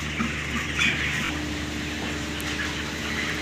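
25-day-old chickens cluck and murmur amid a steady mechanical hum in a poultry farm shed, a busy indoor flock heard at moderate distance without talk.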